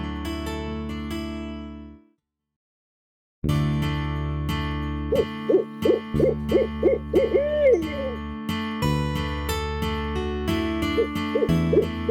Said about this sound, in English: Owls are nighttime creatures, and they retire to deep timber and heavy shadows at sunrise.